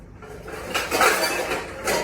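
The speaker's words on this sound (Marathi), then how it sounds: "काय करू, एक डिश घेते." Ceramic dishes clink and knock together as one dish is lifted from a kitchen stack, in a few close, moderately loud clatters over about two seconds.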